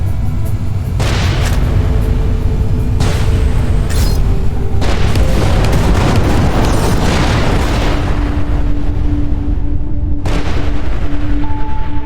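Repeated booming explosions from a bomb-throwing enemy in the space shooter game Everspace 2, loud and dense, with several heavy blasts layered over a constant roaring rumble across the whole stretch.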